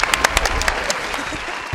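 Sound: applause

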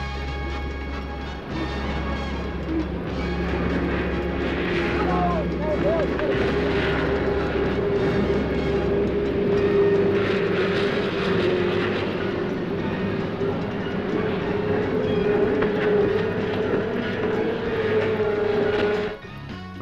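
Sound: powerboat engines at the start of a race

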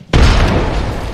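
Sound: frag grenade explosion in video game Apex Legends

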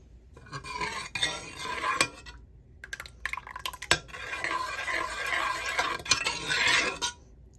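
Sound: stirring black rice porridge in a pot

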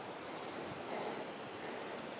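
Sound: flooded Aranyos river water flowing

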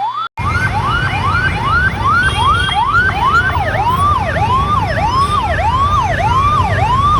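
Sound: ambulance siren in a traffic jam

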